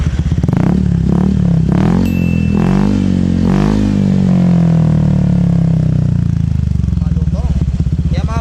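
A Honda Click v4 scooter fitted with an ARM exhaust pipe revs in several loud, close blips, each rising and falling sharply before settling into a rumbling idle, with no voices over it.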